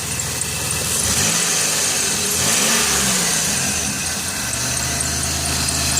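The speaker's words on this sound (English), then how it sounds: "Listen to the engine run. Has a slight squeak." A 1999 Dodge Caravan wheelchair-accessible minivan engine runs steadily at idle, a continuous mid-pitched hum with a faint high squeal riding on top, no talking.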